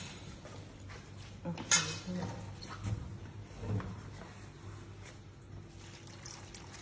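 Water is poured into a jar for three-flavour pickled vegetables, a soft trickle with a sharp clink of glass or utensil near the start, fairly quiet.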